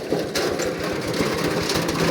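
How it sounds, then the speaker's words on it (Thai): A two-wheel walking tractor's small engine chugs steadily at a fast, even idle, close by, its rhythmic low thumping continuous throughout. "เอาหัวรถไถคอยาว ให้เป็นประโยชน์ทุกคนเนาะ"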